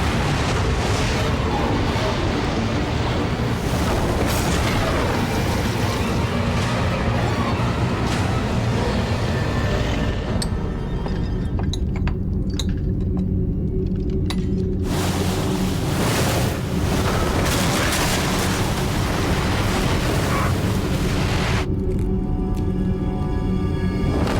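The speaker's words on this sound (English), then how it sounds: "A peripheral wave 6 meters high crashes into New York." Loud, continuous roar of a huge tsunami wave crashing, heavy rushing water and wind, surging and churning throughout without a break.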